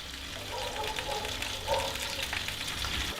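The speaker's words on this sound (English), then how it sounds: "Listen to that sizzle." Steady sizzling and crackling hiss of beef slow-roasting in an oven, continuous and close, with faint background noise.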